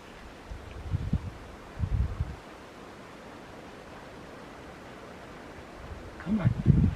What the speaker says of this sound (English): Now the wind picked up.